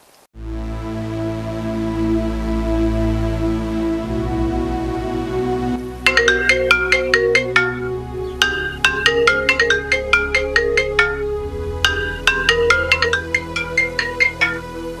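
A mobile phone ringtone playing during a call, a steady tone at first and then a repeating bright electronic melody in rhythmic bursts, with no talk over it.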